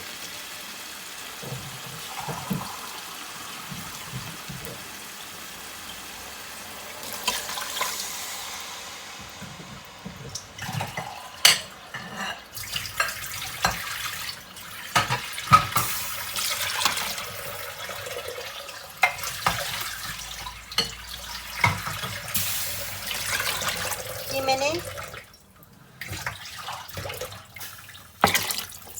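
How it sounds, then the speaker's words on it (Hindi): Running water pours and splashes into a metal pot for chicken pulao, with scattered clanks and drips; a voice briefly speaks a couple of words. "और अब इसके अंदर मैं पानी डाल दूँगी।"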